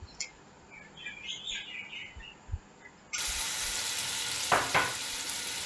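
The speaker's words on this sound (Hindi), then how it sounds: "1 कप ऑयल डालने के बाद मैं 5 दरमियाने साइज़ के कटे हुए प्याज जो हैं वो डाल लूँगी 1 कप ऑयल में।" Five chopped medium onions hit a cup of hot oil in a cooking pot, and a loud, steady sizzle erupts and keeps going close up, with faint chirpy bird-like sounds in the quieter moments before it.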